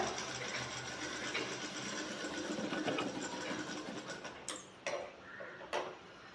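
Sewing machine stitching a shirt sleeve, a fast steady mechanical whir of the needle running for several seconds, then stopping with a few sharp clicks near the end, quiet and close.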